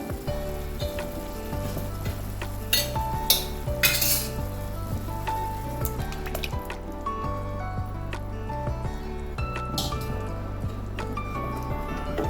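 Cooked lentils and drumstick pieces are poured into boiling tamarind sambar for a Tamil Nadu tiffin sambar, giving steady bubbling and sizzling with scattered clinks of a metal spoon against the pot throughout.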